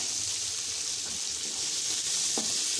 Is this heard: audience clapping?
no